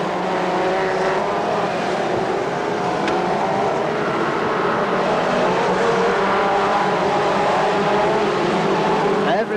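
A field of F2 stock cars roaring away at the green flag on an oval, a dense, continuous engine roar close by, with a commentator talking over it.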